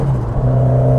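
A stage 3 rear-wheel-drive Ford Sierra RS Cosworth engine howls loud and close during a full-throttle pull, holding one steady, droning note for a second with no voices.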